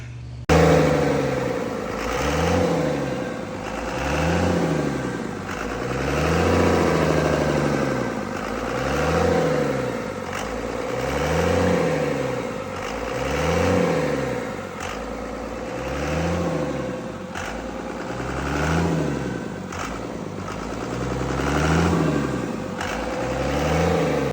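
A truck engine idles after its cam break-in and valve lash adjustment, running steadily and close by with a regular, rolling swell in its note throughout and no speech.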